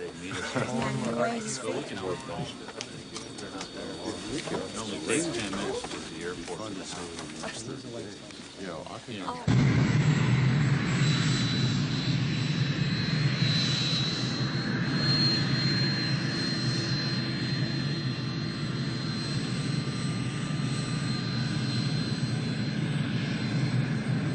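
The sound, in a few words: jet airliner taking off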